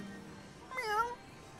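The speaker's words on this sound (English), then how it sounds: "That was a cat, probably. Little baby cat." A single short cat meow, rising then falling, sounds once near the middle over a quiet, faintly humming background.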